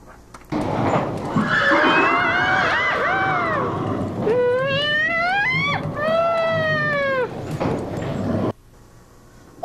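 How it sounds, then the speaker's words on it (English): A horse whinnies loudly in a series of rising, shaking neighs, with a soft clip-clop of hooves underneath, close and clear, staged in a doll-play scene. "you're taking a horse that's so 18th century"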